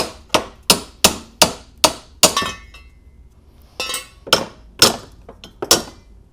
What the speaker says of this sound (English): Then we'll grab our hammer and tap them one out of here.